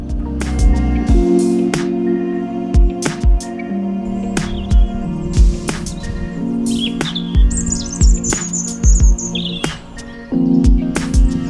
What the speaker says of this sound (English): the birds are coming out in force, but they're starting to pair up now for spring